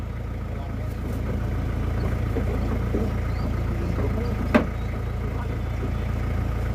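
A motorcycle engine idles steadily nearby with a low, even rumble that holds throughout, with a brief sharp knock partway through and voices in the background.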